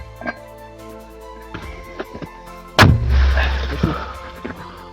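A single heavy mortar boom strikes near the middle, a sharp deep blast followed by a rumbling, noisy tail; faint scattered sounds come before it.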